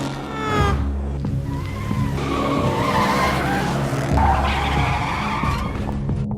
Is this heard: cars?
yes